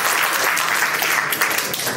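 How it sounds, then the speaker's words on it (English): Audience applause for a youth speaker at a self-improvement expo, a loud, sustained crowd of many hands clapping evenly throughout, with no talk over it. "Give him a round of applause."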